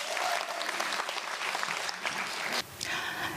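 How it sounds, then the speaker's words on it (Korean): An audience applauds steadily throughout, a dense wash of clapping from a crowd, loud and continuous, with a slight dip near the end. "박수 부탁드립니다."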